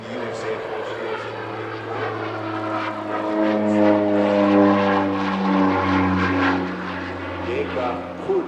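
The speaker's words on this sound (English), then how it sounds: "Now some simulated strafing runs, more reminiscent of the combat versions of the Bronco." An OV-10 Bronco twin-propeller aircraft flies simulated strafing runs at the Midlands Air Festival, its droning engines swelling in a steady, rising and falling tone with a shifting pitch as it passes, while a commentator talks over it.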